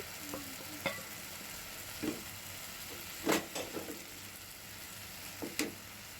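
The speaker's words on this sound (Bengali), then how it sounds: "তাই নেড়ে চেড়ে আর পাঁচ সাত মিনিট একটু রান্না করে নেব এর ভিতরে চিকেনটা অ্যাড করে দিচ্ছি" Chicken being stirred and cooked in a pan, a soft, steady sizzle broken by a few scraping stirs, close by and fairly quiet with no talking.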